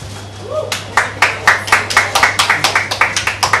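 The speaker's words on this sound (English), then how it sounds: "Big round of applause, ladies and gentlemen" Audience applause at a tea brand launch event, starting as a few scattered claps and building into a steady run of sharp, close handclaps, with a faint voice at the very start.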